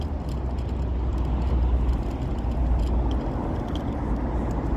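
A car's engine rumbles low and steady close by as the car pulls in, a continuous road-vehicle drone with no voices.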